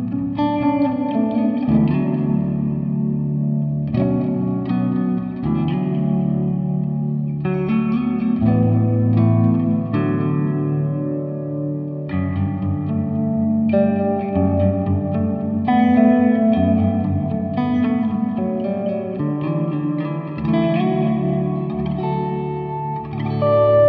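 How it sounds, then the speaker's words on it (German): Clean electric guitar through a Boss Katana 100 MKII amp with phaser, reverb and delay pedals, playing a sustained ambient passage with swirling chorus-like modulation and echoing tails, steady and loud for the whole stretch with no talking. "Jetzt möchte ich nochmal ein Phaser-Pedal zum Reverb und zum Delay dazuschalten, um damit dann einen schönen Ambient-Clean-Sound zu erzeugen."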